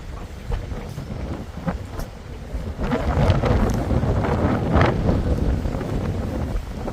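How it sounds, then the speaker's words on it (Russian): Strong wind on a bridge over a river in York buffets the microphone in a steady, loud roar that swells and gusts throughout, with no voices. "Ветер сильный."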